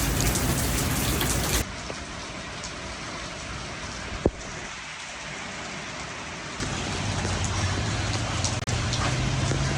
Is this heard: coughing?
no